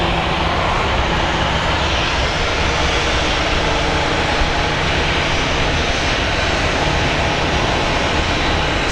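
Airliner taxiing toward its gate at Phoenix Sky Harbor airport, a steady broadband engine roar that holds constant and fairly loud throughout with no voices over it.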